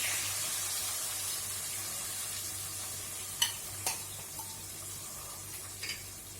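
Minced meat (kheema) for Hyderabadi dum kheema fries in a pan with a continuous hiss and sizzle, broken by a few sharp clinks of stirring, close and moderately quiet.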